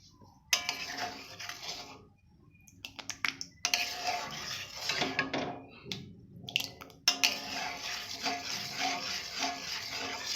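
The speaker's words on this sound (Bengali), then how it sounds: "এইভাবে অনবরত নাড়তে থাকবো কিছুক্ষণ" Spoon scraping and tapping in a pan while tomato sauce is stirred continuously, a busy run of clicks and scrapes with brief quiet gaps, moderately close.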